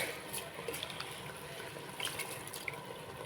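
Water is poured over raw rice in a pot for prawn biryani, a steady, faint splashing gush with no voices.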